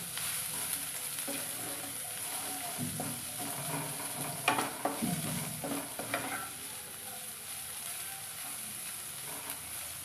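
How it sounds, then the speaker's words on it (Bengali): Chopped onions fry in a pan for fried rice made from leftover rice, giving a steady sizzle throughout, with a burst of scraping stirring strokes through the middle. "এতে কুচি করে রাখা পেঁয়াজগুলো দিয়ে দেব তারপরে একটু নেড়ে নেব"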